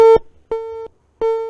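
Three short bursts of a phone busy or disconnect tone from a failed call, each steady pulse separated by brief silences.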